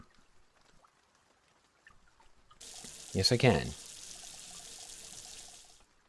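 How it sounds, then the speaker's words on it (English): Water poured into a brewing container with a yeast-based recipe, a brief splashing pour of about half a second followed by a softer, steady trickle, with a voice speaking briefly. "Now, can I get some water in here without screwing it up?"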